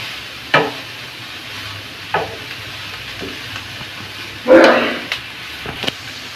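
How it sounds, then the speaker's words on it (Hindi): A spatula stirring and scraping a vegetable mixture in a pan, heard as a few distinct close scrapes and clatters spaced apart, the longest near the end, over a faint sizzle. "ऐसे चला के सबको मिक्स करेंगे, चारों तरफ से बराबर चलाएंगे इसे"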